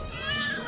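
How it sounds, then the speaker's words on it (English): A single short cat meow, drawn out and fairly close, sounding on its own for under a second. "Hope you like cats."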